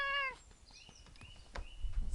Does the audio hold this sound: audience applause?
no